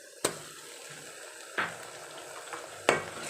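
Ginger-garlic paste is stirred into fried onions in a pan, with a steady quiet sizzle broken by three sharp spoon knocks against the pan at roughly even intervals; no talking.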